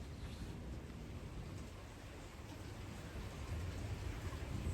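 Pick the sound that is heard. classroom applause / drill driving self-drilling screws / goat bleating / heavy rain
heavy rain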